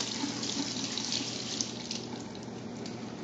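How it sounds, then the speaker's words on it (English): Filtered tap water runs steadily over beans being rinsed in a kitchen, a continuous close splashing stream without pauses. "When I rinse my beans, I always use filtered water"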